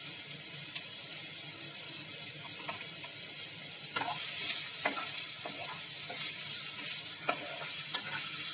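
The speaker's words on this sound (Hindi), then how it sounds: "प्याज को लाइट ब्राउन होने तक भूनेंगे।" Onions and broken whole red chillies frying in hot oil for a potato and brinjal dish, a continuous hissing sizzle with occasional stirring scrapes and clinks, steady and close, growing slightly louder midway.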